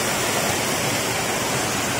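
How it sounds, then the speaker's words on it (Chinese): Alibang Waterfall, the largest falls on Yangmingshan with a tall drop, pours in a loud, steady, broadband roar of rushing water that fills the whole moment without a break or any voices. "哗啦哗啦的阿里棒， 阿里棒瀑布，阳明山最大的瀑布"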